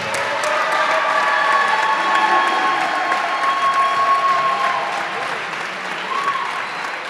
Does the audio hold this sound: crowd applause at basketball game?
yes